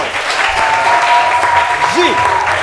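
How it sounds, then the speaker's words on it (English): A street crowd gives a round of applause, dense steady clapping with voices and a rising shout mixed in over the top. "ladies and gentlemen, give Atamli a round of applause"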